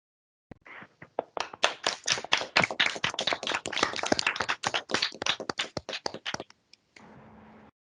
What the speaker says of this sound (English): I muted myself to applaud you.